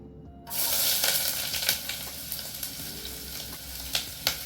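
Onions hit a hot pot of olive oil with a sudden loud sizzle that keeps frying steadily, with occasional stirring clicks and scrapes.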